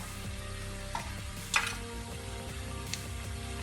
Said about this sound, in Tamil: இதை சேர்த்து நல்லா நம்ம கலந்துக்குவோம்